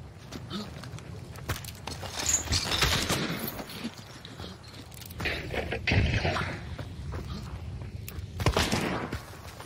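Rifle shots from a Mosin in the Hunt: Showdown video game ring out several times amid busy in-game noise and footsteps, with loud sharp bursts scattered across the stretch.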